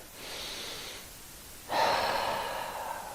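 Deep breathing during a yoga fish pose: a slow, airy inhale followed after a pause by a louder, fuller breath, close to the microphone with no talking.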